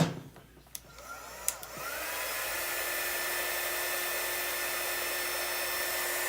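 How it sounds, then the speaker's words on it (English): A hair dryer blows on freshly applied chalk paint on dog tags; after a few small clicks it whirs up into a steady, loud, close hiss that holds to the end. "I'm going to hit that with the dryer a minute"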